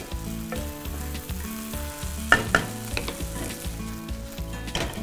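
Bread slices fry in hot ghee in a pan on a home gas stove, sizzling steadily and close up with crackles and the odd clink of stirring throughout.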